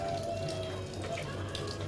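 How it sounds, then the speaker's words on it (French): Steady overnight rain in Cameroon, a continuous, even hiss of falling water with a faint low hum beneath, no pauses or breaks, heard from indoors. "Il pleut. Il pleut depuis la nuit."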